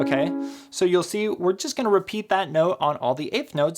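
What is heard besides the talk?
No everyday noises stand out.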